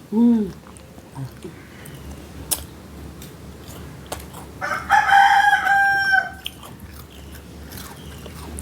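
A rooster crows once, loud and close, in the middle of a quiet stretch with faint background noise and a short bird call at the start.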